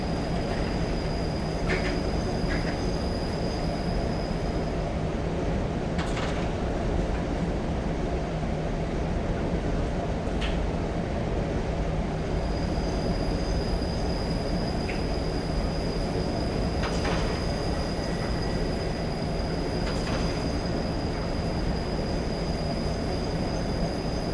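Class 37 diesel locomotive running downhill in Train Simulator 2015, a continuous loud rumble of the moving train with occasional wheel squeals and faint clicks, steady throughout with no talk.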